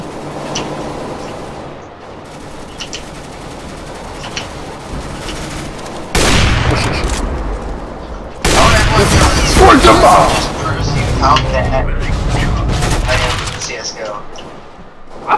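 Bursts of rifle fire from a Counter-Strike: Global Offensive match, including AK-47 shots, loud and dense with booming impacts in the second half, mixed with game noise and people talking over it.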